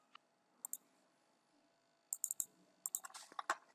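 Someone types on a computer keyboard while working in an Excel spreadsheet, producing sparse, quiet clicks. A short cluster comes first, then a faster run of keystrokes near the end in an otherwise quiet room.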